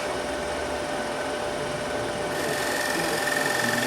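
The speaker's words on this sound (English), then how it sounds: "You could also use a negative rake scraper there, and you get little things like that." Wood lathe spinning a plate while a negative rake scraper cuts it: a steady, continuous mechanical whir with a faint tonal hum and a fine scraping texture throughout, with no speech.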